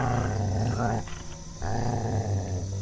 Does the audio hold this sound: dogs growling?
yes